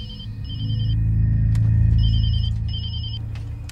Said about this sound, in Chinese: 林队，电话。